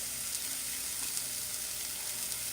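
A chicken breakfast sausage patty sizzles steadily in a hot pan, a continuous close crackle of frying with no pauses and no voices.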